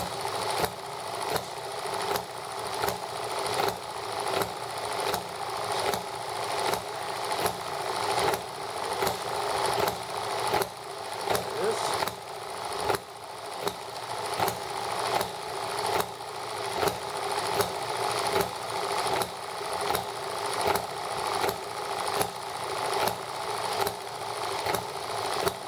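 An ET7 model engine runs on fuel with a fast, steady, buzzing mechanical beat that pulses in a regular rhythm roughly every second for a long, unbroken stretch, fairly faint and with no voices.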